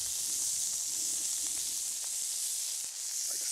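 Finely chopped red onions sizzling in oil in a pan, a steady close hiss that continues evenly with a few faint crackles and no voices.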